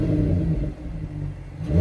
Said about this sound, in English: that was the sound of the 3-liter straight 6 turbo sold by Mercedes for the 2024 AMG